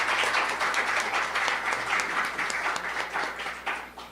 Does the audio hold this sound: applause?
yes